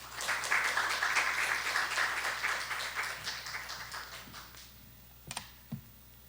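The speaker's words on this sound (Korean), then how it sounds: "박수로 환영하면 좋겠습니다" A church congregation at a Sunday service applauds to welcome the pastor, dense clapping for about four seconds that thins out and fades, followed by a couple of isolated knocks.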